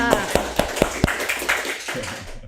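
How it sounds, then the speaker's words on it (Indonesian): An audience claps for Kang Ega, starting with a few sharp, evenly spaced claps that blur into short, fairly close applause, with voices talking over it. "tepuk tangannya pada Kang Ega."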